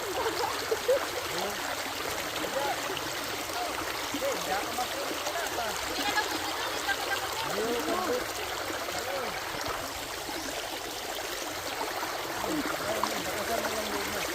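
Shallow stream water trickles and splashes steadily as someone wades across on foot, with people talking now and then over the flow.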